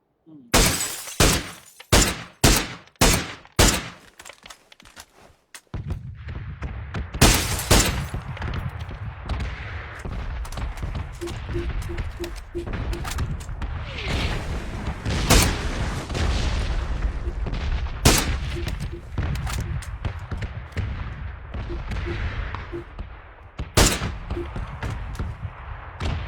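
Gunfire in a shooting video game starts with a quick run of loud, sharp single shots, then continues as a dense mix of repeated bursts and impacts over a steady background rumble.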